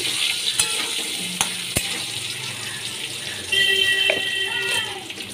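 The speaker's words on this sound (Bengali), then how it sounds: "নুন হলুদ দিয়ে আমি ভালো করে আলুগুলো ভেজে নিচ্ছি।" Potatoes with salt and turmeric fry in a pan with a steady crackling sizzle, close and continuous, punctuated by a few sharp clicks of stirring and a brief louder spatter near the end.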